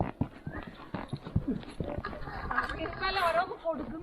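Hooves clip-clop steadily beneath near, continuous conversation during a horseback ride in Kashmir, with occasional animal sounds in the background.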